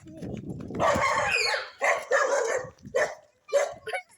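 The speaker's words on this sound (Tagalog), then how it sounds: "May aso doon." A dog barks several times in quick, uneven bursts, fairly close, with brief pauses between the yips.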